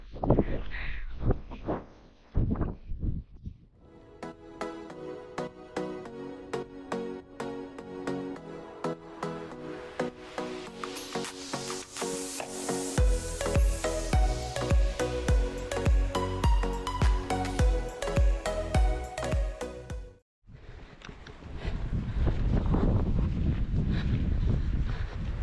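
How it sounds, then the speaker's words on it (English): Strong Atlantic wind roars and buffets the microphone on the exposed west side of Lundy Island during a trail half marathon, loud at the start and end, while music takes over the middle stretch. "the west side of the island, which as you can see is significantly more windy as it's exposed to the Atlantic"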